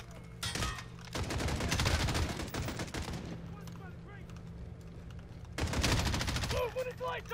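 Machine gun fire in the Modern Warfare 2019 campaign: two loud sustained bursts of rapid automatic shots, one running for about two and a half seconds, a quieter gap with distant game sounds, then a shorter burst near the end.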